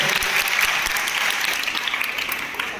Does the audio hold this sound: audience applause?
yes